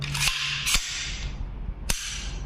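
Three sharp gunshots from an AR-15 rifle with a Fostech trigger ring out, two close together then a third after a pause, each a loud crack with a short ringing tail.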